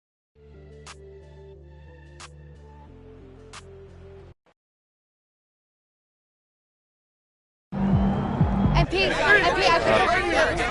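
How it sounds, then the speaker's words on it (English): Basketball video game crowd in a San Antonio game: game-audio tones for about four seconds, a short silence, then a loud, dense crowd roar with babbling voices for the final three seconds. "Boy, this crowd."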